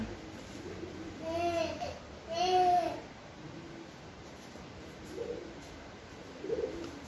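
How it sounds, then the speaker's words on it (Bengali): A plump pigeon at a temple cooing softly a couple of times among faint background chatter and voices; the sound of it flying off is not clearly audible. "এই পায়রাটা আমার খুব পছন্দ হয়েছে, বেশ মোটা সোটা, দেখো কি সুন্দর পায়রাটা"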